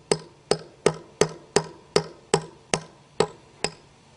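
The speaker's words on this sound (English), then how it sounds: "go ahead and tap it in until it hits the bottom of the hole." Ten steady hammer taps drive a nut-capped anchor down into a bolt hole for a pool slide installation, each blow a crisp close metallic knock with a short ring, repeating at an even pace.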